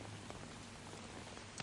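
Rain in the Metal Gear Solid 3 video game, a soft, steady patter of drops with a few faint distinct drips standing out near the end, quiet and continuous with no talking.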